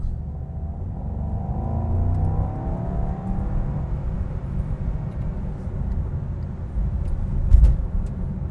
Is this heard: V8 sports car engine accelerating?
yes